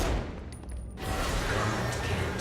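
Pistol fire in the video game Saints Row: Gat Out of Hell blends into a dense, noisy wash of combat sound. It is fairly loud and continuous for a couple of seconds.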